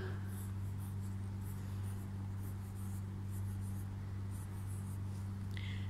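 Pen drawing number models (columns for tens, small squares for ones) for a second-grade addition lesson, heard as steady continuous scratching strokes over a constant low electrical hum, with no talking.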